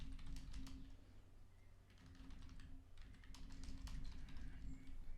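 Rapid, light clicking of a Mac computer keyboard as code is typed, quiet and close, in irregular bursts with short pauses, over a low steady hum.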